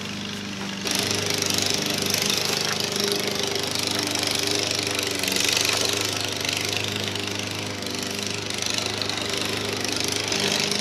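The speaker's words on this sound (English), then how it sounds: "I'll cut it with the grinder with a cut off." An angle grinder with a cut-off wheel cuts into a steel truck bumper, a steady loud motor whine with a bright, hissing grind that holds continuously for several seconds.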